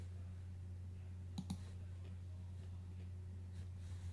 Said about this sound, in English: I'll click over here.